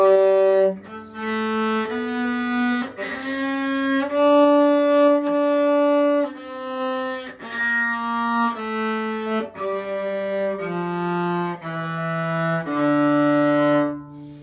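A cello plays the D melodic minor scale ascending and then descending, sustained bowed notes one after another in an even, unhurried rhythm, close and clear with no talking.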